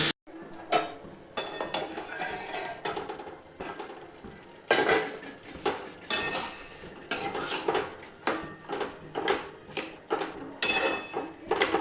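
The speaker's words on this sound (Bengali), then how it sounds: "এবারে গ্যাসটা কমিয়ে একটা ঢাকা দিয়ে দিচ্ছি" Metal pot and utensil clatter rings out in close, irregular clanks and scrapes as a lid goes onto a pan of pumpkin and potato curry over lowered gas, with a soft sizzle beneath the bursts.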